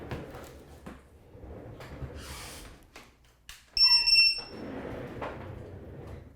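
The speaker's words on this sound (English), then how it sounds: "the LED is now joining the loud beeper sound for us to have both an audible and a visual beacon system here" A ViFly drone LED beacon sounds a loud, piercing electronic beep, a single shrill tone lasting about half a second amid faint background noise and handling sounds, with no speech.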